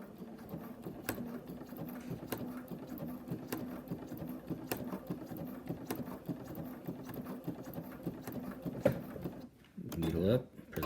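A sewing machine stitches on a jig, a quiet steady rhythmic clatter of needle strokes at an even pace, ending with a few louder mechanical clunks as it reverses and stops.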